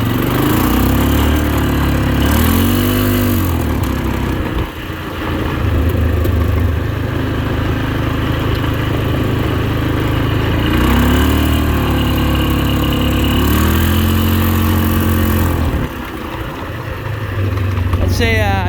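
A 1999 Polaris Sportsman 500 4x4 ATV engine runs up, its idle rising into repeated revs and dropping back in cycles, loud and close, with a voice talking over part of it.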